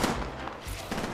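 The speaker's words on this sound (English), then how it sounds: "Whoa, gunshots." Gunfire in the battle royale game Apex Legends, a quick burst of several sharp shots in close succession, loud and up front with no talking over it.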